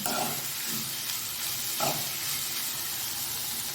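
Already-boiled carrots and beans sauté in a pan for carrot beans poriyal, making a dense, continuous hiss of frying with a couple of soft stirring bumps.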